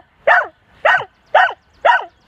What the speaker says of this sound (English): he barks hysterically at the lawnmower